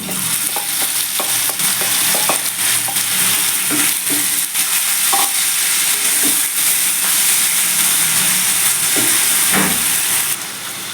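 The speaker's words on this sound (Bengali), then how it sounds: "এবার আমি মাংসের কিমাটাকে ঢেলে দিচ্ছি" Mutton mince sizzles and fries loudly with onion and garlic in a hot pan, a dense continuous hiss with scattered stirring scrapes and pops, close and steady throughout with no talk.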